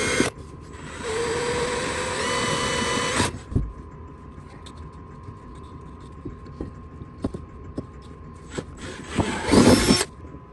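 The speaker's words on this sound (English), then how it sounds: "So we're gonna take and drill two 5/16 holes in the center" A power drill bores two 5/16-inch holes for foot pegs on a Yamaha Grizzly 700 ATV, running loud and steady for about three seconds, then stopping to a faint hum before a short second burst near the end.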